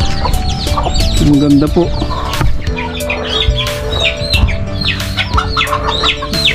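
Bantam chickens cluck and chirp busily at a farm, close and continuous, with a brief crow mixed in while a person speaks softly.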